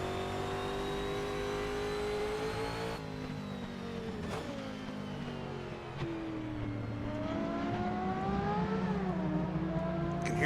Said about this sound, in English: hear that Nissan again.